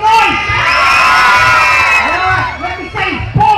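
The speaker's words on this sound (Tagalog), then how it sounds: "Crowd check! Let's make some noise!" Crowd at a live hip hop dance showdown roars with cheering, whooping and shouting, a dense loud wall of voices close by that dips briefly near the end before surging again.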